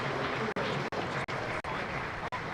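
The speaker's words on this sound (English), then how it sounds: "the applause you can hear just trailing away is for Kent's Daniel Bell Drummond" A crowd at a Kent Spitfires versus Notts Outlaws cricket match applauds a batter in steady, moderately distant clapping, with the sound broken by several brief dropouts.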